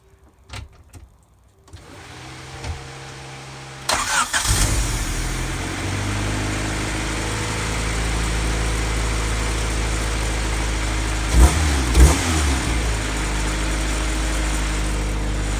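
Car engine in a driveway cranking and catching after a few clicks, then settling into a steady, loud idle to warm up, with a brief rev partway through.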